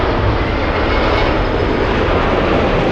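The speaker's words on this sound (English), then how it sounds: "You hear the engines pulling up and down there" Jet airliner engines at LAX on short final, a steady loud broadband roar that holds evenly through the whole stretch with no talk over it.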